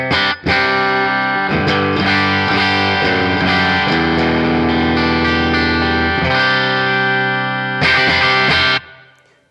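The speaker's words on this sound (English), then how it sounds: "The amplifier that we're using in the Quad Cortex right now is the Fender Twin Reverb" Electric guitar chords ring out through a modelled Fender Twin Reverb amp on a Quad Cortex, with a Rowin Blues Nano mini overdrive pedal, fairly clean with a slight edge of breakup, sustained strums and single notes, no talking.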